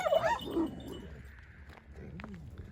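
A dog gives a few sharp barks and a high whimper, close by, with short yips scattered through the clip.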